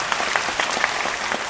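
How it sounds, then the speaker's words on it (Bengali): Audience clapping for a group of women performers at the Madhusudan Mancha stage, a steady dense wash of many hands filling the hall, even and sustained with no voices over it. "এই দিদিদের জন্য আর একটা জোরে করতালি আপনারা দেবেন।"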